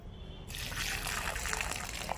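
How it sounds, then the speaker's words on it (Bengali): Water pours steadily from a container onto soil around a newly planted plant, a close, continuous splashing trickle that begins abruptly and carries on without talk. "এবার আমি জল নিয়ে আসি খুব ভালো করে গাছটা জল দিয়ে দেব"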